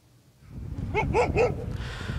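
A stray dog in the Kulob area barks three times in quick succession, sharp and fairly close, over a low outdoor rumble.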